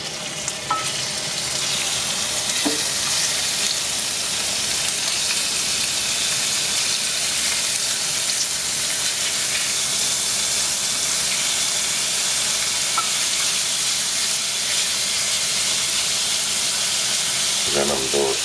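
Food fries in a hot paella pan while a cava-and-greens dish is being cooked, giving a steady, loud, continuous sizzle and hiss throughout, with a few faint clinks near the end.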